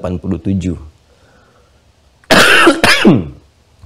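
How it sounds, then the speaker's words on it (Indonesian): A man lecturing at an Islamic study session on Ramadan clears his throat several times early on, then gives two loud harsh coughs, with a quiet pause between the two groups. "Saya sudah minta izin di awal ya untuk diselingi dengan batuk."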